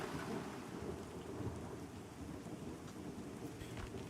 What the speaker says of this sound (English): You can kind of hear the pitter-patter of the rain inside.